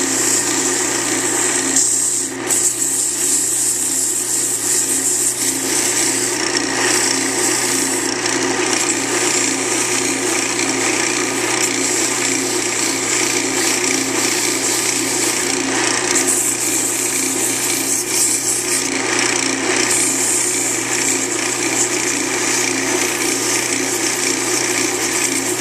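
Wood on a slip cork is smoothed with 400 grit sandpaper, giving a steady, loud, continuous rasping hiss with a mechanical whir beneath it that lasts the whole time without pause.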